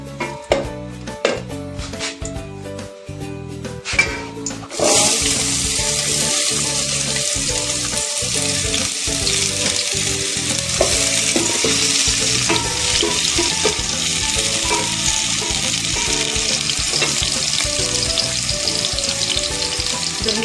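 Chicken recipe cooking: a few clinks and taps at first, then ghee starts frying with a loud, steady, close sizzle that lasts to the end with no talk.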